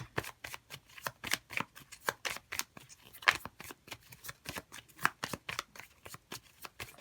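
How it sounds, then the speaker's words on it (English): Tarot cards are shuffled by hand in a long, steady run of close, crisp riffling flicks that keep a fairly even rhythm with no voice over them. "So let's see if we can get a few more cards here."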